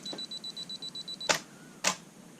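A camera shutter fires twice at a half-second exposure, each release a sharp, close click spaced about half a second apart, heard alone after a run of soft, regular electronic beeps.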